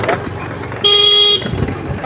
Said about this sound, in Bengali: তো আমাদের স্কুটারে চেপে গেছি, এই যে রওনা দিলাম